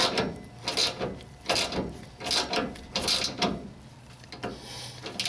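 A ratchet tightening the top bolt of a rear shock on a 2002 Toyota Tacoma standard cab, giving close, loud bursts of rapid clicking that repeat in a steady rhythm of strokes with short pauses between them.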